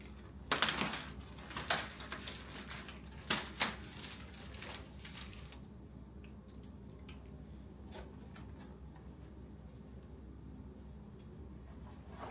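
Large Ziploc plastic bag cut through during an unboxing, with a few sharp snips and crinkles up close in the first half, then quiet room tone with faint small ticks.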